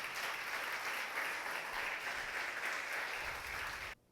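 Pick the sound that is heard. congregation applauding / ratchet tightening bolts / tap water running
congregation applauding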